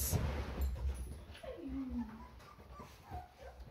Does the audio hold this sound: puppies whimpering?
yes